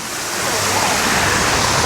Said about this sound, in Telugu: నీళ్ళు జుమ్మని వస్తుంది పైకి